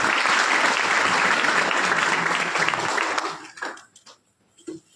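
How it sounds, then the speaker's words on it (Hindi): Seminar crowd at an AWPL meeting in Gangapur City giving loud, enthusiastic applause for about three and a half seconds, which then breaks off into a few scattered claps and quiet room sounds. "एक बार आप लोगों के लिए जोरदार तालियां होनी चाहिए।"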